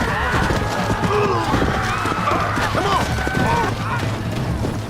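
Horse hooves clip-clop steadily in the Red Dead Redemption Western video game, a close rhythmic trot with occasional neighing, mixed with game ambience and some voice in the background.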